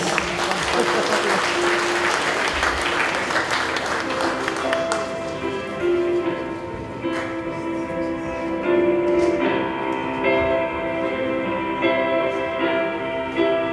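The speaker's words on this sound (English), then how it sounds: "Give them a round of applause" Loud applause from a crowd at a Santacruzan Filipino event in Kuwait fills the room, dense clapping at first that thins slightly but keeps going steadily throughout, with a few scattered voices mixed in.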